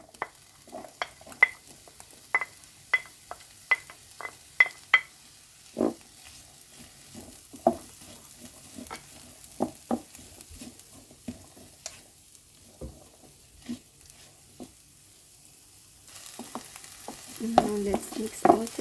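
Vegetables stir-fried in a pan for fried rice: a run of sharp scraping and clacking strokes against a steady low sizzle, alone and close, with the sizzle swelling louder near the end.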